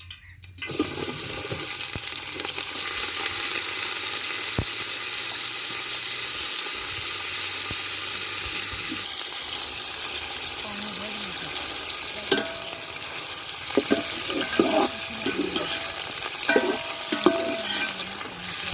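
Onions frying in a pan for pulao give a steady, broad hiss of sizzling oil close by. Occasional stirring clinks and scrapes come later, with no speech.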